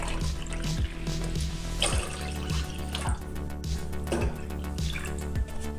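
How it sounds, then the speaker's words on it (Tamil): Water poured into warming milk in a cooking pot while making milk rava upma, a steady splashing stream heard up close, with faint rhythmic thumps running underneath and no talking. "2 கப் அளவு தண்ணி சேர்த்து லைட்டா பாலை சூடு பண்ணிரலாம்."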